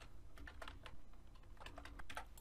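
Quiet, close clatter of code being typed on a computer keyboard, irregular quick keystrokes in steady bursts with no talking.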